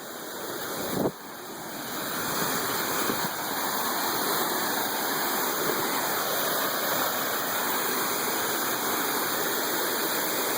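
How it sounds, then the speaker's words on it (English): A waterfall on Mount Rainier roars as a steady broadband rush throughout, with one brief knock near the start and no voices. "I'm going for the waterfall"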